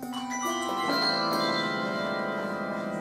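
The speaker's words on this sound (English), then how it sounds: "Ring the bell down here by your waist" A handbell is struck a few times, its bright metallic tone ringing out and lingering in a long, shimmering decay.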